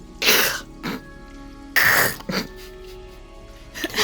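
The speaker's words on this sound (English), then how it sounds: "sneezes again." Two loud, close sneezes a second or so apart, each followed by a short throat sound, with a quiet background hum.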